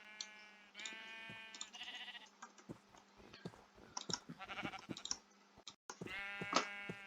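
Sheep bleat repeatedly in a Minecraft game on the NationsGlory server, several nasal, wavering calls spaced across the stretch between clicks and soft keyboard-like tapping.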